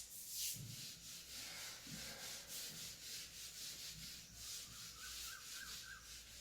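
Rhythmic dry rubbing strokes of a duster erasing chalk writing on a classroom board, a steady back-and-forth scrubbing close by, alone without talk.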